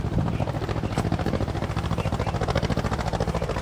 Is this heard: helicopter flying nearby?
yes